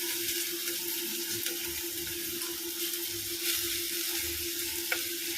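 Garlic, onions and green chillies sautéing lightly in a pan, a continuous soft sizzle with faint running-water-like hiss and a steady background hum, no voices.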